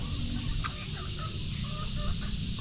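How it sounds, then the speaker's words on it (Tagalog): A few faint chicken clucks come through over a steady, rumbling background noise outdoors in Calaca. "Nag-iisa na lang naming manok"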